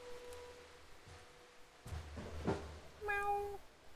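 A cat in the video game Stray gives one clear, close meow near the end, after a few faint soft sounds and quieter tones.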